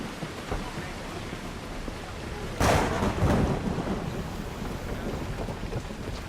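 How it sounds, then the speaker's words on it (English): A thunderstorm in the video game Assassin's Creed Odyssey, with a sudden loud thunderclap rolling out over steady rain, a faint voice murmuring beneath. "there's a storm!"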